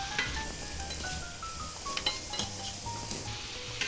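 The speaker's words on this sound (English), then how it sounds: "The onions are starting to get cooked." Onions frying in a pan with a soft steady sizzle, along with light clinks of utensil against cookware and a faint tonal hum underneath.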